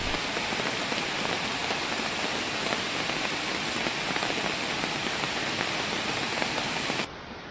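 Heavy rain pours steadily on a campsite on a waterfall slope at night in a dense, constant roar of drops, close and loud, easing abruptly to a softer hush at the very end.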